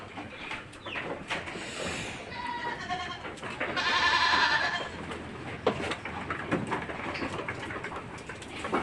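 Damascus (Shami) goats bleat on a farm, a few faint, wavering calls rising from mid-distance over outdoor background noise with occasional bird-like chirps, with no talking.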